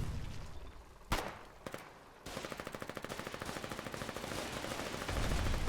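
Rapid automatic gunfire in the war game Foxhole, a single sharp shot and a couple of isolated cracks, then a long steady burst of evenly spaced rounds at moderate distance, with no talk.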